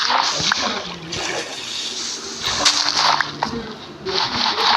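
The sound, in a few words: water falling while climbing a mountain in Minecraft video game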